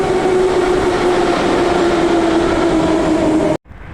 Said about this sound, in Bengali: একটার পর একটা ট্রেন আসছে।